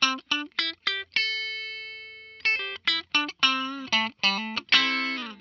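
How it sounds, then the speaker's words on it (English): 1971 Gibson Les Paul electric guitar with its pickups wired out of phase, giving thin, nasal, quacky tones in short plucked notes and chords with one long sustained note, played alone and upfront. "But out of phase sounds like this."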